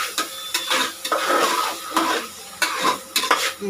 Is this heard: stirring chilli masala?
yes